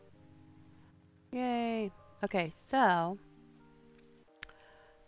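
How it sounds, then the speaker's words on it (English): Light rain falls outside as a faint, steady patter, heard under a few brief spoken words. "Oh, it's raining"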